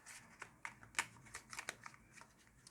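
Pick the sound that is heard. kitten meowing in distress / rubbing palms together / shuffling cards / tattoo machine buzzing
shuffling cards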